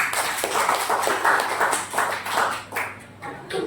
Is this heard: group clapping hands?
yes